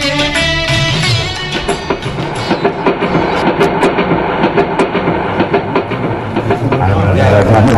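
A train runs along the rails in a radio drama, a steady loud rumble with rhythmic clacking throughout, close and continuous.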